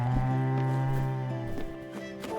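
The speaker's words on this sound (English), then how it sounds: "Well, the cow is very hungry." Cow mooing in Spiritfarer, a long, loud, tonal low moo that fades over a couple of seconds, with a few soft clicks in the background.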